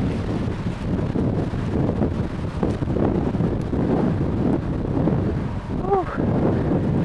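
Wind rushes and buffets the microphone throughout an autumn bike ride around town, a steady rough roar broken by a short whistling tone near the end.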